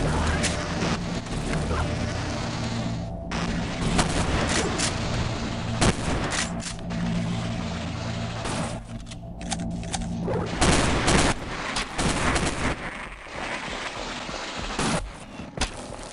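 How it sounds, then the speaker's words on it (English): Pistol shots in the Half-Life mod Delta Particles burst out in loud, rapid volleys, dense and sharp with brief gaps and a few heavier booms across the span. "Pistol."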